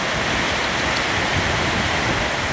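Heavy rain pours down steadily during a storm at a house, with wind adding to the dense, unbroken roar of water close by and no voices.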